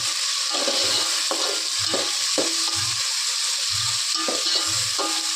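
Tomatoes frying in a pan with onions and green chillies, a steady sizzle broken by repeated stirring scrapes and low thumps every second or so, close and continuous with no talk.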